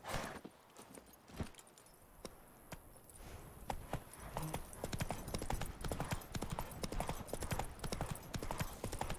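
Roach, Geralt's horse in The Witcher 3: Wild Hunt, clip-clops steadily on hooves at a walking pace, a continuous close rhythm of hoof strikes under game ambience, with a faint whinny.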